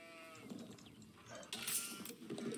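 Sheep bleating in the Age of Empires 4 strategy game, a short animal call amid faint in-game clatter and ambient effects, fairly quiet with no voices.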